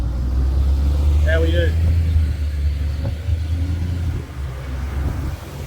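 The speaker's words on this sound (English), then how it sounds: "Won't compete with the traffic." Steady road traffic rumbles past on a Gold Coast highway at Burleigh, a continuous low drone of cars and trucks with a brief short greeting spoken over it.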